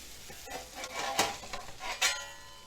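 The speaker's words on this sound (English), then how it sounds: "You ever notice how you can tell when a grilled cheese sandwich is getting done just by the sound it makes when you move it?" A grilled cheese sandwich sizzles and scrapes in a pan as it is slid around, making a faint steady hiss broken by several short scraping bursts, with no talking.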